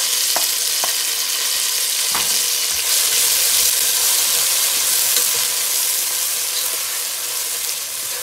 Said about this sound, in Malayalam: തക്കാളി ഇട്ടിട്ട് അസലായിട്ട് വഴറ്റുക.